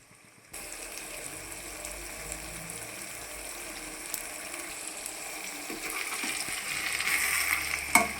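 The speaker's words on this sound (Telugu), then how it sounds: "చూడండి ఎగ్ నూనె అంతా ఎలా బయటకు వస్తుందో అలా ఎగ్ బాగా ఏగనివ్వాలి" Eggs fry in oil for egg rice with a continuous soft hiss and crackle that grows a little louder toward the end, with a few light clinks.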